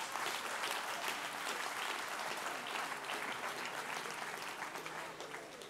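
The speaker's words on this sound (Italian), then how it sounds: "Fate un applauso, per favore." An audience at a live comedy show in Milan applauds with dense, steady clapping that carries on evenly throughout at a moderate, somewhat distant level.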